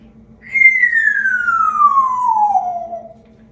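A pet parrot gives a single long, clear descending whistle, loud and close, sliding smoothly down in pitch for about two and a half seconds over a quiet background hum.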